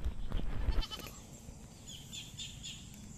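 Goats on a backyard farm, being fed ripe papaya, make a burst of close rustling and chewing noises, followed by quieter scattered bleats and faint chirps in the background.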